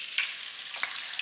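Arctic char fries in a pan with a close, continuous hissing sizzle and a couple of faint pops.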